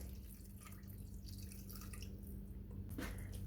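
Water poured from a glass into pizza dough mixture, a faint, close trickle and drip that ends with a brief splash near the finish.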